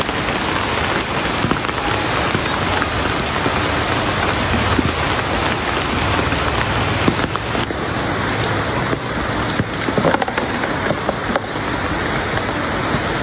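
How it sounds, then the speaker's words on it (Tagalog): Heavy rain pours steadily during bamboo-trap shrimp catching outdoors, a dense, loud, continuous hiss of drops drumming on surfaces with no pauses and no voices. "talaga pong grabe ang lakas po ng ulan"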